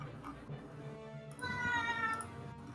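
A cat lets out a drawn-out meow indoors during a tabletop role-playing game session, loud and close, following softer murmurs.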